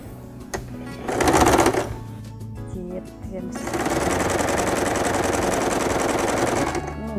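A sewing machine runs in two rapid stitching bursts, short at first and then a long steady run, sewing a two-layer bag strap with several lines of stitches.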